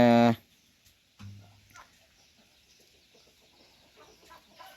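Egg-laying hens in a coop let out a few short clucks after a loud opening burst, with soft scattered rustling and faint background sounds in between.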